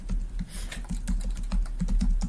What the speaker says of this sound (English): I'm typing it.